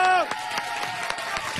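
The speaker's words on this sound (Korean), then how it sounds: "큰 박수 부탁드리겠습니다" Audience applause fills a Power FM radio studio during a live show broadcast, a steady patter of clapping that follows a brief sung or spoken tone, with voices mixed in.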